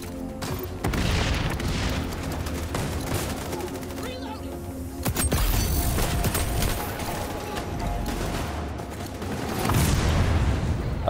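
In the video game XDefiant, a grenade blasts with a deep boom amid rapid bursts of gunfire, several loud explosive hits spaced across the scene with dense, chaotic shooting between them.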